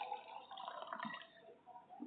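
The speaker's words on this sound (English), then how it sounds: "I'm having a glass, I'm pouring the water in it" Water poured into a drinking glass for a simple classroom science demonstration, a steady splashing, filling trickle heard close up and alone, fading slightly toward the end.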